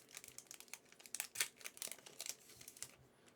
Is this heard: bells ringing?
no